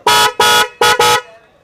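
A bike horn, a first-copy aftermarket unit on sale at a Coimbatore shop, honks four loud, brassy blasts close by: two longer, then two quick ones, ending in a short fade.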